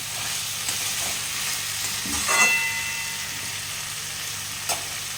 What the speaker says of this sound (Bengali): কষে নেব একটু